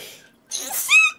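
A single short sneeze bursts out after a quiet pause, close and fairly loud, with a bright, breathy rush that ends in a high, squeaky tail; faint voices come before it.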